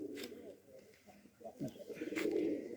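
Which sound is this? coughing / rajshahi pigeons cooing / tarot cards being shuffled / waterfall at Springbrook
rajshahi pigeons cooing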